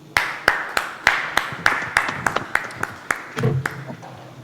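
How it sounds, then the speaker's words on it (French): Scattered claps from a conference audience, about a dozen distinct sharp hand claps spread over a few seconds rather than full sustained applause, moderately close, with brief murmuring near the end. "on applaudit encore une fois le représentant de l'Union européenne"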